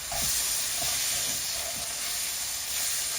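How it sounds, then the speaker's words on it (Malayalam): Chicken masala sautéing on a low flame for Kerala-style chicken roast, a steady close sizzling hiss with a few soft stirring scrapes, no talking. "Now I am going to cook all masala with slow, slow fire."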